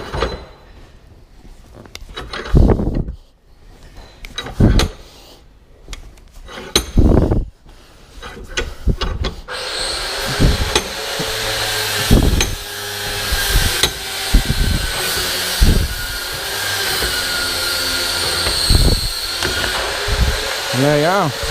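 Polyurethane wishbone bushes on a Ford Focus ST being pressed out in a big bench vise, with metallic clanks and scraping, then a loud steady grinding whir as the vise tightens. Someone talks over the first part.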